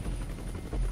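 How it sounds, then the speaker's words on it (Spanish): A helicopter in the video game X-Men Origins: Wolverine gives off a continuous whirring rotor chop, close and steady, for about a second. "¡Oh! ¡Helicóptero!"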